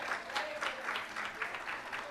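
A church congregation clapping in praise, a faint, rhythmic patter of hands at some distance, steady bursts roughly every quarter second.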